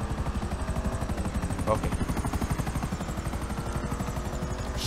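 A helicopter in the video game GTA 5 sends out a loud, steady rotor chop that pulses rhythmically throughout, close by, with a brief spoken word over it.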